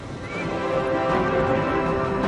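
Horse whinnying against a dense, sustained backdrop, one drawn-out high call rising over steady layered sound that fills the whole stretch without pause.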